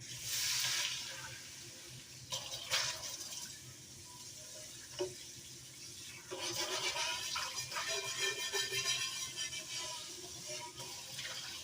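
Tap water running and splashing while ground meat is rinsed out in a kitchen sink, a steady wash with a few clunks and bursts, loud and close, with no talk.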